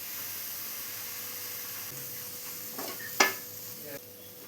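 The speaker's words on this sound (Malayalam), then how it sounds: "പൊട്ടാറ്റോയും കൂടെ മസാലയിൽ നന്നായി മിക്സ് ചെയ്തെടുത്തിട്ടുണ്ട്" Cubed potatoes being stirred into masala in a pan for a coconut-milk chicken curry, a soft steady sizzle under a few scraping stir strokes and one sharper clink of a spoon against the pan.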